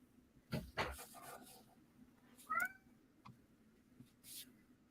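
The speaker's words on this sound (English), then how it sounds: "Can y'all hear my cat? Meow. Screaming at me." A house cat meows loudly a couple of times in an indoor room, drawn-out yowling calls with quiet gaps between them and a faint steady hum underneath.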